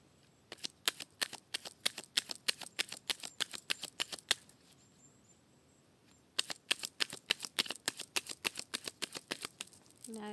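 Tarot cards being shuffled in a rapid run of crisp riffling flicks, a pause, then another quick run; close and fairly quiet, with a faint voice at the very end.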